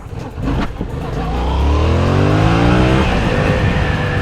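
A Yamaha MT-07 two-cylinder motorcycle engine revs up hard and holds a high, loud roar, its pitch climbing smoothly after a couple of quick throttle blips.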